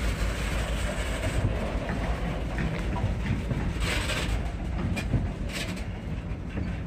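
A goods train loaded with gravel rumbles past steadily at moderate distance, giving a dense continuous rolling noise with soft clicking of wheels over rail joints.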